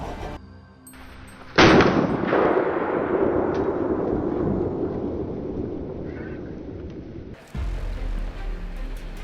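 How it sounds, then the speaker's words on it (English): Sustained barrage of gunfire during a wild boar hunt, a sudden loud onset followed by a dense, continuous roll of shots that slowly tapers before a second burst near the end. "a barrage of gunfire rained down like a thunderstorm."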